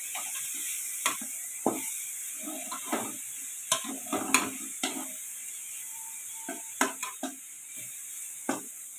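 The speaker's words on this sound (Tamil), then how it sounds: "இது மாதிரி நம்ம நல்லா தொழவி விட்டுருவோம் இந்த ஸ்டேஜில்" Coconut poriyal being stirred and sautéed in a pan, with a soft steady sizzle beneath irregular close scrapes and knocks of a spoon against the pan.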